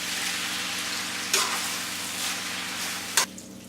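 Chinese stir fry noodles sizzling steadily in a hot pan as they are stirred, with a couple of brief sharp scrapes of the utensil against the pan.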